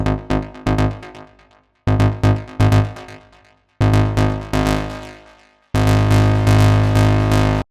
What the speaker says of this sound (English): Bass storms is a plucky bass step.